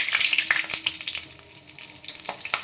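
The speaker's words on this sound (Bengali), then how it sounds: "ওই মাছ ভাজা তেলের মধ্যে আমি একটু কালো জিরে ফোড়ন দিয়ে দিলাম আর কাঁচা লঙ্কা" Nigella seeds and green chillies hit oil left over from frying pabda fish, giving a loud, close, continuous sizzle with bright spattering bursts throughout.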